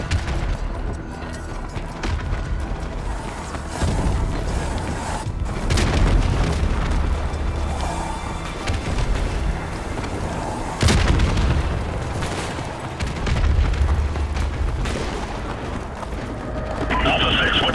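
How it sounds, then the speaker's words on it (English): Heavy gunfire and deep explosions in the Call of Duty Modern Warfare Remastered mission The Bog: a constant barrage of booming blasts and rattling shots throughout, with several sharp explosions and voices talking over the combat. "we're taking heavy fire on our position north of the overpass"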